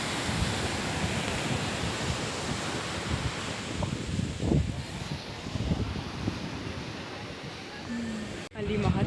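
Sea waves of the Bay of Bengal at Puducherry surge in a steady, broad roar, with wind buffeting the microphone and some faint background voices. The sound cuts off abruptly near the end.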